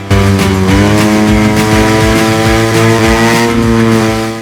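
A loud motorcycle engine runs steadily, close and droning with a rough buzzing tone that shifts slightly in pitch.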